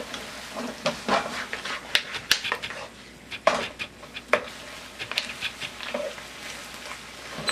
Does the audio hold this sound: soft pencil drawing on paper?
no